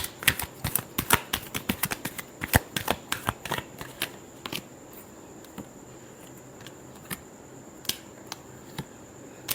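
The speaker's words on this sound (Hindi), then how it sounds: "Last shuffle." Tarot cards are shuffled in quick riffling bursts, a dense flurry of crisp papery clicks for the first few seconds that thins into scattered single snaps, close and alone with no voice.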